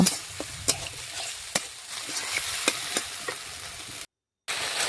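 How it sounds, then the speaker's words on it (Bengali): Spice paste fries with onions and chopped tomato in a pan for a cabbage dish. A spoon scrapes and stirs in repeated sharp strokes over a constant sizzle, with a brief silent gap near the end. "সমস্ত কিছু একসাথে মিশিয়ে মশলা একটু ভেজে নেব।"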